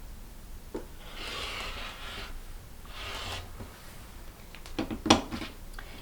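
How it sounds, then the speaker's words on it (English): Scissors or a cutter rasp through quilting fabric along a drawn line in two or three drawn-out strokes, soft and close, ending in a sharper clack as the tool is set down; no talking. "We cut directly on the drawn line."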